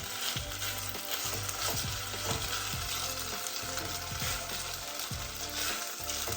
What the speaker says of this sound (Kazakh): Рисімізді ыстық майға, қуырылып тұрған ыстық майға салсаңыздар, ристеріңіз бір-біріне жабысып қалмайды.